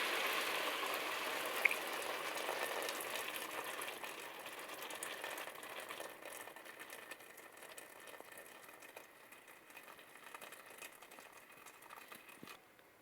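Boiled water is poured into a pot of chickpea stew, making a steady, soft, rushing hiss that slowly fades over several seconds, with no voices.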